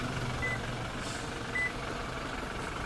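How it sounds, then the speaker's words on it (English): A car warning chime sounding as the driver leaves with the keys removed while the engine runs, two short high beeps about a second apart over a steady idling engine hum, no talk. "the vehicle started beeping at me when I jumped out of the vehicle"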